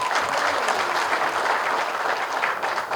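Sustained audience applause at a film teaser launch event, a dense steady wash of many hands clapping together, loud and continuous from start to finish with no talk over it.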